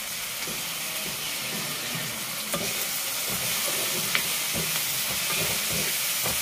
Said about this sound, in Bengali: পেঁয়াজ, ক্যাপসিকাম, টমেটো সব দিয়েছি, দিয়ে একটু ভাজা ভাজা করে নিয়ে